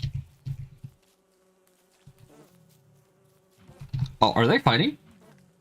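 Bees in the video game Don't Starve Together give off short, buzzy insect drones that swell near the end as a bee fights a frog, with a person speaking briefly over them.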